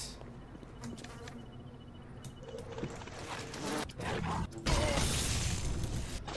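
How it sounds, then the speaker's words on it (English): Bees buzzing in the video game BioShock, a dense insect drone with mechanical creaks, steady and close, swelling louder toward the end. "Bees, mayhaps?"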